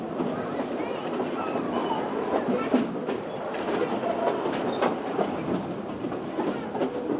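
A train rolls along the rails with a continuous rumble and faint rhythmic clatter, steady and fairly close, no one speaking.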